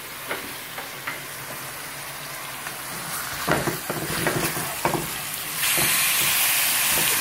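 Steak fries in a pan with a steady sizzle, broken by scattered pops and clatters. The hiss grows louder and brighter toward the end.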